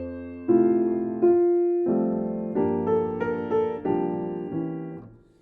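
Jazz piano playing over a 1 to 2 chord movement: a series of sustained chords with a melody on top, moderately loud and close, alone, with the last chord fading out.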